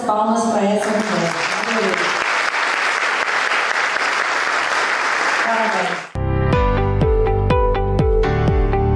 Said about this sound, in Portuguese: Eu gostaria de muitas palmas pra essa mulher.